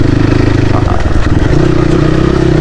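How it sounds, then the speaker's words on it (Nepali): A Crossfire RM 250 motorcycle rattling with a steady knocking vibration while being ridden, loud engine drone close up and continuous for the short stretch. "बाइक चाहिँ टक हान्न छ पुरै टक टक टक टक गरेर चाहिँ हल्लाइरहेको क्या"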